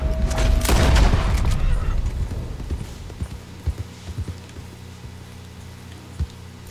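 A single loud gunshot in Red Dead Redemption 2 booms out early, followed by scattered hoof clops and faint game ambience as it fades.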